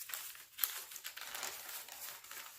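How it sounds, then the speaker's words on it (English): Aged, dyed paper crinkles softly for a journal page, a quiet, continuous rustle with small crackling bursts, close up and alone. "I love the sound of crinkly paper."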